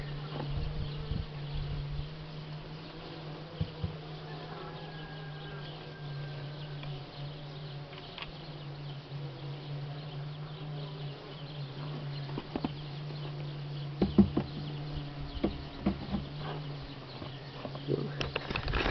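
Faint, steady buzzing of starving honeybees crawling out of comb cells in a dying colony in March, with occasional soft knocks and rustles.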